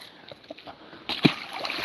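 A fish released back into the Passadumkeag River in Maine hits the water with one sharp splash, followed by a short stretch of rushing water and sloshing close by.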